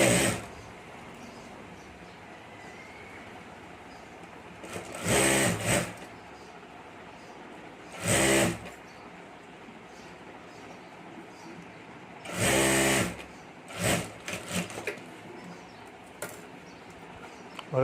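A sewing machine stitches a zip onto a handmade hand bag in short, loud bursts of rapid whirring, separated by quieter pauses with faint room noise.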